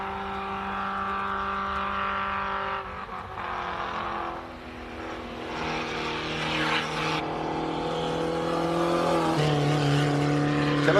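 Classic racing cars in a class final roar past on a track at Simola, engines droning steadily with shifting pitch as several cars go by, loud and continuous throughout.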